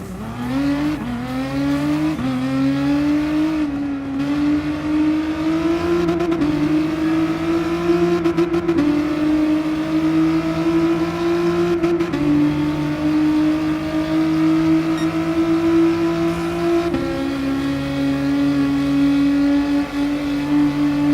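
The V6 turbo hybrid engine of the Nissan Concept 2020 Vision GT race car in Gran Turismo Sport drones loudly and steadily throughout, its pitch climbing and shifting through gear changes, with no talking.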